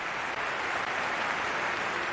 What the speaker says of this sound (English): the sides face each other up and give each other a round of applause